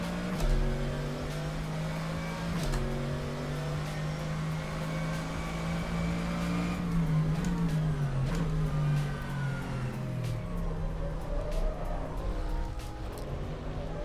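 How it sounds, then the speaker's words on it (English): Mercedes AMG GT3 race car engine in the rFactor 2 simulator at Circuit Zandvoort, a steady droning engine note that rises and falls through gear changes, continuous and fairly loud with no talk over it. "Great sound from the engine in this car"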